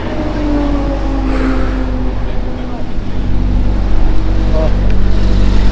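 A Porsche 992 GT3 pulls away on the Nürburgring, its engine a steady low drone that swells gradually as it drives off, with a voice briefly heard over it.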